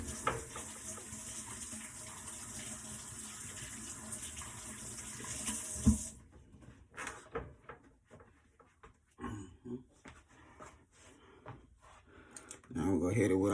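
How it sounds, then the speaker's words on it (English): Water runs steadily from a kitchen tap for several seconds as hands are washed during beef tri-tip roast prep, then cuts off, leaving quieter clatter and handling sounds. "And wash my hands real quick."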